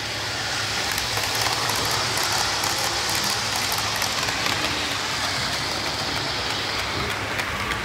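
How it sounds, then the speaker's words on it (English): The oldest, cheapest model train of a display layout at a model railway show, running at full speed with a steady rushing whir and a rattle that holds evenly throughout. "this one, and I'll just run it on at full speed because it always amuses me. It's the oldest, cheapest train I've got here."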